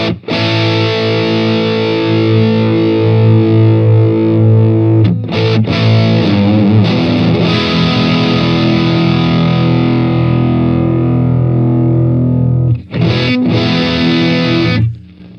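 Heavily distorted electric guitar through an Amptweaker DepthFinder EQ pedal, chords ringing out and sustaining like an old Marshall with bright caps clipped, with two brief breaks where the strings are re-struck, thick and crunchy throughout.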